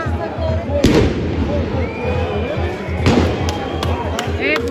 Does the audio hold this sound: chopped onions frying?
no